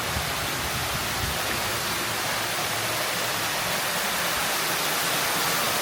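A wall water feature beside a 4-foot-deep residential swimming pool sends out a steady, dense rush of falling water, close and constant, with no voices over it.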